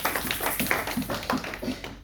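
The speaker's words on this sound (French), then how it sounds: "Acclame très très fort Jésus" Rhythmic group clapping from a church congregation, a steady run of sharp close claps with no talk over it.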